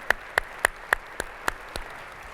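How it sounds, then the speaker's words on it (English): Audience applause during the opening session of a conference, heard as about seven distinct, evenly spaced loud claps rather than a full crowd wash, fairly close and with no talking. "I think Montana deserves another round of applause."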